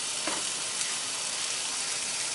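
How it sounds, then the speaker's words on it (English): Chicken pieces sizzle steadily in a non-stick pan, a loud, continuous broadband frying hiss with faint crackles, heard up close with no talking. "you just want to hear it sizzle"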